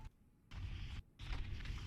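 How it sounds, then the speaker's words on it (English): Fireworks shot off in the video game Final Fantasy XIV, two or three muffled booms and crackling bursts in quick succession over a couple of seconds, fairly quiet overall. "they're shooting off fireworks"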